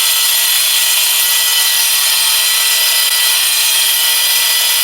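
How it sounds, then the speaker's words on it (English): An angle grinder cuts a chase into a house wall during a rewiring job, a loud, continuous, unbroken abrasive whine held at close range throughout. "Now we're going to get the grinder and just chase out 35mm all the way up to the coving"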